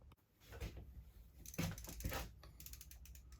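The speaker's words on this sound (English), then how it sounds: "then I'm going to go around it with my socket and tighten them up" A socket wrench tightens the mounting bolts of an RV rooftop air conditioner, making faint, close mechanical clicks and ratcheting rattles in short bursts.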